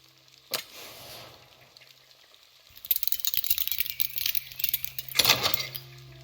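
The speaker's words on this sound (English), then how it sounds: "Ember placed the key in the lock and slowly began to turn it." A key turned in a locked gate in the video game The Last Campfire: a single click, then a busy metallic rattling and jangling mechanism that builds to a brief louder clatter near the end.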